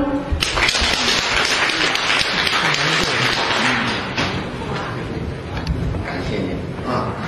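A live audience at a Chinese crosstalk comedy performance applauds with a dense, steady wash of clapping that carries on for several seconds, with some voices mixed in.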